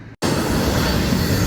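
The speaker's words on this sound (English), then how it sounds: "And that train's pulling out of Smyrna." A Florida East Coast Railway northbound freight train passes near New Smyrna Beach, making a loud, steady broadband roar after a brief dropout.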